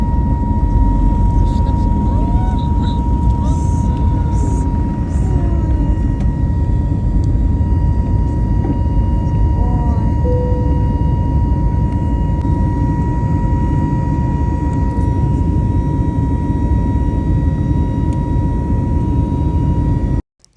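Loud, steady broadband roar of airplane cabin noise on a flight to Moscow, a continuous engine drone with a faint tonal hum, constant throughout and cutting off at the end.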